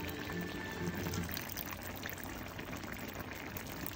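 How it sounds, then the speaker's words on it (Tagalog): A little vinegar pours into ginataang gabi, taro simmered in coconut milk with corned beef, in a pot, a soft steady liquid trickle and splash heard close and alone over faint cooking background. "lagay tayo ng konting suka. Konti lang guys."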